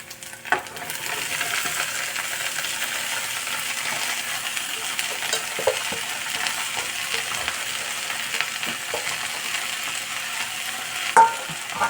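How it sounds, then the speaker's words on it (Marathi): Finely chopped spinach sizzles in a frying pan with ginger-garlic paste while being stirred, a steady hiss broken by scraping strokes and occasional sharp metallic clinks of the utensil against the pan. "त्याच्यामध्ये आम्ही बारीक चिरून घेतलेली पालक टाकूया।"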